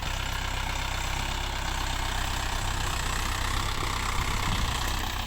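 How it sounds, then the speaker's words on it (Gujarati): A tractor engine runs steadily while ploughing a farm field, giving a continuous loud, low drone with no pauses or voices. "તો આખા ખેડાઈ રહ્યું છે ટ્રેક્ટર"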